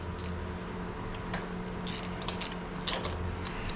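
A 5/8 six-point deep socket on a ratchet breaks spark plugs loose on a Victory motorcycle, giving close, dense metallic clicking and grinding with a few sharper ticks near the end.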